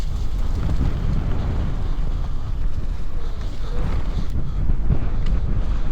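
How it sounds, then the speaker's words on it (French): Strong wind buffets the microphone during an outdoor mountain-bike ride, a continuous low rumbling roar with gusty swells and no talk. "Ah, il y a du vent."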